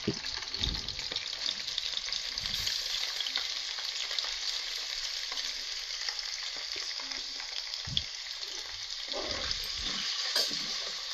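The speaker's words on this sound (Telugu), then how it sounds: "బాగా కొంచెం పచ్చివాసన పోయేదాకా వేపుకోవాలి" Steady, continuous sizzling of a coarse onion, ginger and garlic paste frying in hot oil, with occasional stirring scrapes and bumps, close up and without speech.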